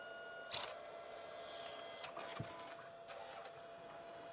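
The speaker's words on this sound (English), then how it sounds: "it is printing the yellow first. Then after that, it's printing the pink or the magenta." A Canon SELPHY CP1500 photo printer works through a print, giving faint, quiet mechanical clicks and short whirring ticks over a low background hum.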